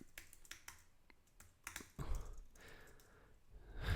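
Quick, light keystrokes patter on a computer keyboard at a moderate distance, irregular and faint, with a soft thud and low rustle partway through.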